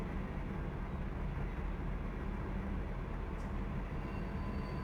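Rumble of a long freight train braking down the Cajon Pass grade in Run 8 train simulator, a steady broadband roar that holds even and loud without a break, with a brief faint high squeal near the end.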